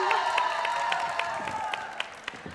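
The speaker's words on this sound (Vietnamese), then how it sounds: "Đồng ý cho một tràng vỗ tay ạ." An audience at a Vietnamese televised talent show breaks into applause. Scattered sharp claps ring out over sustained background music and crowd noise.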